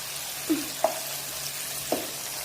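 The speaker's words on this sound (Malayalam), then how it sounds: "അപ്പോൾ നമ്മുടെ തക്കാളിയൊക്കെ അലുത്ത് വന്നു. നമുക്ക് ചെറുതായിട്ട് സ്മാഷ് ചെയ്ത് കൊടുക്കാം കേട്ടോ." Tomatoes frying and being mashed in a pan for masala chicken, a soft steady sizzle with a few light scraping pushes of a spoon, fairly quiet and close.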